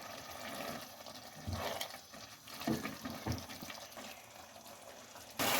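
Pea pulao rice simmering in a covered pot, a steady close wet bubbling with soft pops and gurgles that swell and ease, no voices.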